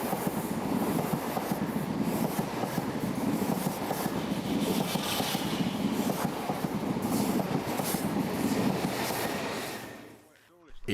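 Train running along a railway line past signals, a steady close rumble with rhythmic wheel clatter throughout, then dropping away abruptly near the end.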